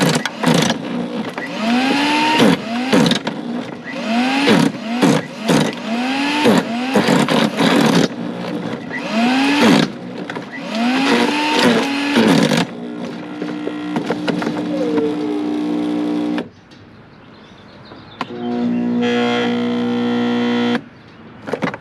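A Sun Joe 15-amp electric wood chipper/shredder (CJ602E) chewing through oversized wood pieces, loud whining motor broken by a rhythmic series of bogging, groaning dips as each piece is fed, then a strained steady grind and a final spin-down.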